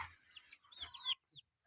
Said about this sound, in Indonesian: Ini banyak ayam ini.